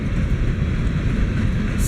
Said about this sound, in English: Here comes a BNSF train.